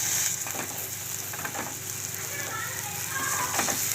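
Chilli powder, turmeric and salt sizzle and fry in a pan while a mushroom pepper fry is being cooked, giving a steady crackling hiss with occasional stirring scrapes close by.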